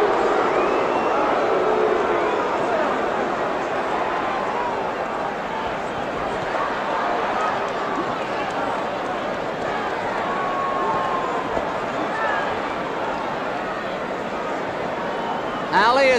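A large boxing crowd at the Ali vs Frazier fight in Manila roars in a continuous, dense wash of noise that stays steady throughout, with a commentator's voice running over it.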